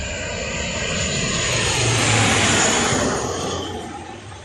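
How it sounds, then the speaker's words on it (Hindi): A fighter jet roars loudly on an emergency landing airstrip in the Thar desert, a broad sustained engine rush that swells toward the middle and then eases off. "कई लड़ाकू विमानों को तेज गर्जना के साथ उतरते और उड़ान भरते देखना"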